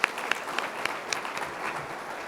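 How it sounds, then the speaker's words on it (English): An audience applauding at a real estate agent summit, a brief burst of clapping from a crowd with a few sharper claps standing out. "let's give Nobu a big round of applause"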